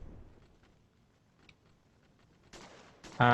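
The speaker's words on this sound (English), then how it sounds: "Just lobs a grenade" Grenade lobbed in a shooter video game, with faint low rumbling and scattered ticks leading to a sharp burst and a loud blast at the end.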